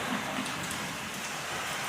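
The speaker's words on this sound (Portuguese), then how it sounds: "Vamos lá, rapaz, essa chuvarada aí" Heavy rain pouring down steadily at a fishing spot, a dense continuous hiss of drops with no voices.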